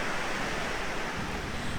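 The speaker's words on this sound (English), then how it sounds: "watch the Nisqually River rushing underneath" The glacier-fed Nisqually River at Mount Rainier National Park rushing under a bridge, a dense, steady roar of water that holds loud and even for the whole moment.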